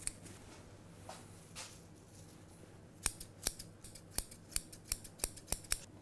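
Scissors snip fresh chives and parsley in a vegan breakfast kitchen, giving a quick run of about ten crisp, close cuts in an irregular rhythm, preceded by softer handling sounds.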